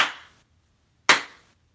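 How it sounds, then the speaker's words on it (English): Two single hand claps in an indoor room, each sharp and close, followed by a short decaying tail of room reflections, with silence between them. "every room you walk into, I have a habit of clapping my hands when I go someplace"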